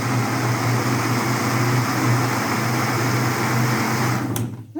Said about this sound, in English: So now I'm just putting in my blender.